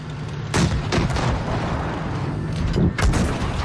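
In World of Tanks Blitz, two loud, close tank cannon shots boom about two and a half seconds apart over a steady rumble of engine and battle noise, with no talking.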